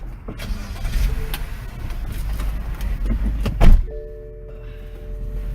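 A car door swings shut with a single solid thump, amid rustling and movement around the vehicle, followed by a faint electronic chime once the door is closed.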